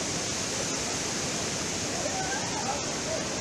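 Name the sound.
waterfall at thermal baths in Greece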